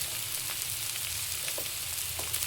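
Raw plantain and grated coconut with chilli and coriander powder sizzle steadily in a pan for a plantain curry, a continuous frying hiss with a few faint stirring scrapes over a low background hum.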